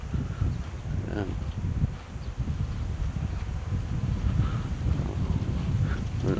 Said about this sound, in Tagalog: Narinig niyo po yung hangin.